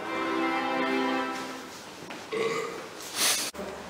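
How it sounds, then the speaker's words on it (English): A single big, drawn-out burp, loud and close, with a deep buzzing tone that trails off into softer breathy sounds and a short snort-like noise at the end. "And then one big burp."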